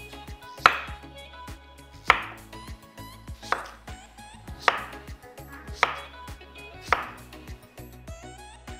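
A knife chops raw papaya into pieces on a board, about six sharp distinct strokes spaced roughly a second apart, close and clear with no talking.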